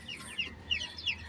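Brahma chickens clucking in a backyard pen, three short, faint calls spaced evenly over a second with no talking.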